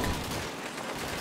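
Gunfire in the video game Call of Duty 2: a dense, noisy burst of shots filling the brief moment, loud and continuous with no talking.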